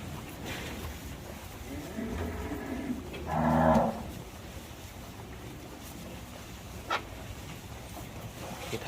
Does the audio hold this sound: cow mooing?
yes